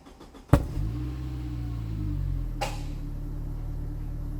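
An old Saab 93 engine cranks and catches with a sharp burst, then settles into a steady, low rumbling idle close by.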